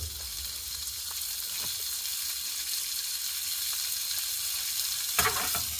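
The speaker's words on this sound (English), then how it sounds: "So we're gonna fry those." Sliced double smoked sausage sizzles in a pan over a camp fire, a steady close frying hiss with a few small pops and a brief clatter near the end.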